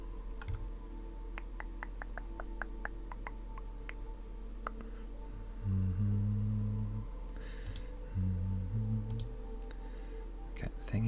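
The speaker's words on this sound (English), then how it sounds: "my keyboard is quite clanky and loud" A clanky, loud computer keyboard clatters with quick irregular key taps in the background, joined midway by deeper thumping bursts, in a close, quiet ASMR-style room setting.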